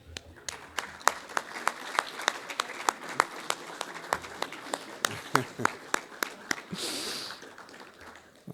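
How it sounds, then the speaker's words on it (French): A church congregation at a Sunday service claps in unison to honour the women in the assembly: a moderately loud, steady beat of sharp hand claps, evenly spaced, before a brief hiss and a pause. "applaudir toutes les femmes qui sont dans l'Assemblée"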